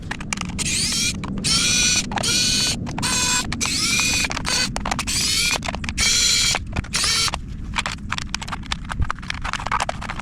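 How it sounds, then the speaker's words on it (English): A screwdriver backing screws out of a DIY gel blaster drone, close rapid ratcheting and clicking bursts in uneven repeated runs, with brief pauses between turns. "So get your screwdriver, get your tools out. We're gonna take this thing apart."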